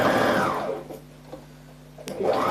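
A sewing machine stitches a 1 cm collar seam joining a collar to a top, with a quick motor whir at the start, a quiet pause with faint clicks, and a second burst of running at the end.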